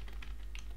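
A couple of quick, soft keystrokes on a computer keyboard, light clicks in a very short quiet moment.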